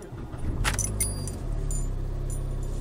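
A PT Touring car setting off for a drive: keys jingle brightly near the start, then the engine hums steadily underneath, low and continuous without speech.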